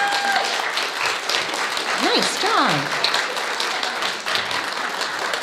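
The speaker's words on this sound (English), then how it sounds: "let's applaud them and their work" A church congregation applauding board members at a spiritual center service, sustained loud clapping from a large crowd with voices calling out over it.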